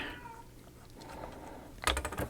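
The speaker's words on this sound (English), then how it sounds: "Got my daughter's cat in the background." A cat meows a few times in the background of a quiet room, faint drawn-out cries followed by a louder clattering burst near the end.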